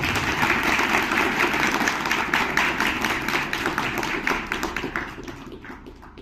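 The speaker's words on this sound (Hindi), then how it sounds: "डॉक्टर साहब को तालियों की गड़गड़ाहट से मंच पे आमंत्रित है।" Applause from a gathered crowd welcoming a guest to the stage at a public meeting, brisk individual claps blending into a full patter that gradually thins and fades toward the end.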